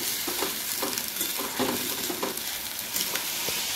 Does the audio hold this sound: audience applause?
no